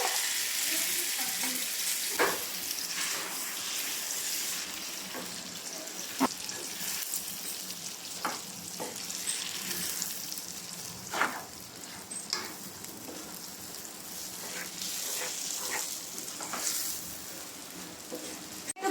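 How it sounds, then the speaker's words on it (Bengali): Marinated beef brain frying with onions in a pan, a steady close sizzle with occasional sharper crackles and spatter pops throughout, no talking. "এখন কিন্তু এই মগজটা মানে ম্যারিনেট করা মগজটা পেঁয়াজের মধ্যে দিয়ে দিব আর মগজটা একটু ভাজা ভাজা করতে হবে"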